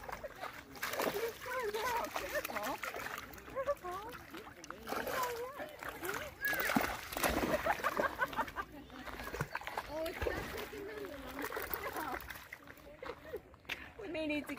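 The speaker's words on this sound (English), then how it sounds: "She's splashing it and going for the water." A dog splashing and lunging in lake water at Thompson Lake, repeated sloshing splashes close by, with people talking over the sounds throughout.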